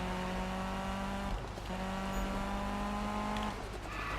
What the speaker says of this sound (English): I actually quite like the sound of this car